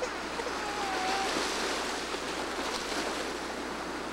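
Ocean waves wash steadily onto a beach as a constant broadband roar, with some wind noise and no distinct breaks.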